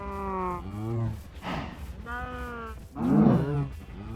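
Minecraft cows moo in a string of long, drawn-out lowing calls, four or so in a row, close and fairly loud, with no talking.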